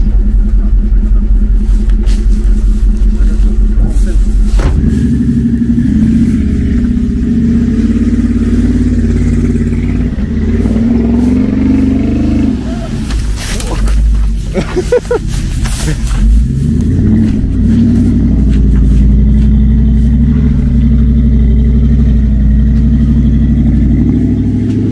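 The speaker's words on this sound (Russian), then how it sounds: "доджик будет ехать сразу в болото" Dodge RAM 1500 pickup with a 5.7 Hemi V8 driving into swamp mud off road, a loud, close engine that idles steadily, then labors and revs hard in surges. Voices talk over it at times.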